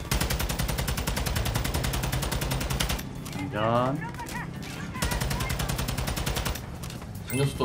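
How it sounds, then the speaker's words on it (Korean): Rapid automatic gunfire empties a full magazine in a video game, a dense, loud stream of shots that breaks off for about two seconds while another sound plays, then resumes for a second long burst. "이제 여기에서 얘네 먼저 한탄창을 다 써서 죽여주시고"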